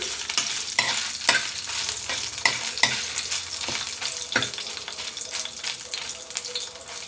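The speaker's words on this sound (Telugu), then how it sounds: "ఈ ఎండుమిరపకాయలు బాగా వేగాలి ఈ మినపప్పు ఎండుమిరపకాయలు చక్కగా వేగాయి" Dried red chillies and urad dal frying in oil, a constant close sizzle punctuated by repeated scraping strokes of a spatula stirring the pan, with no speech.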